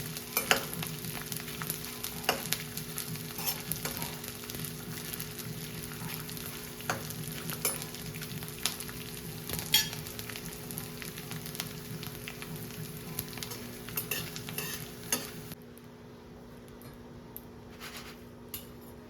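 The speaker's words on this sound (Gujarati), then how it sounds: "ઘી ગરમ થાય એટલે આપણે આ ગુંદર જે લીધો છે એને થોડુંક એમાં તળી દઈશું." Edible gum fries slowly in ghee in a kadai over low heat for dry fruit sukhdi, a soft, steady sizzle with scattered faint pops that thins out near the end.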